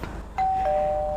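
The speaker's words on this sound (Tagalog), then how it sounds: "Yan, doorbell natin." A doorbell rings out two clear electronic chime tones in quick succession over a quiet room, the second note slightly lower and lingering.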